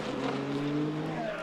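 Le Mans prototype race cars, Mick Schumacher's Alpine and Stoffel Vandoorne's Peugeot, battle wheel to wheel at the 24 Hours of Le Mans, engine notes whining and shifting pitch from a distance, fairly faint and steady.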